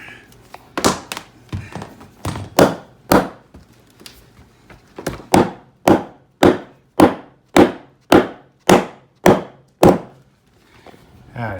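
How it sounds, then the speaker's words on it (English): Hammer blows knock a cut-out section of wooden board loose while fitting a cold air return, about a dozen sharp, woody thunks, first irregular and then in a steady, evenly spaced series, close and loud. "let's see if we can get it popped out with a hammer"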